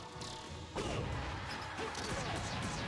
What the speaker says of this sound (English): The rawest of F smashes by fucking Silver.